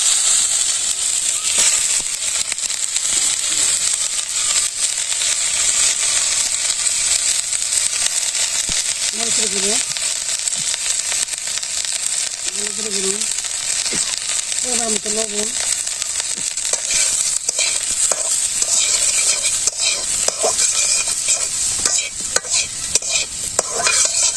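Chopped brinjal pieces fry in a pan with a spice paste and green chillies, a dense continuous sizzle under repeated scraping and stirring strokes, with a few faint voices in the background.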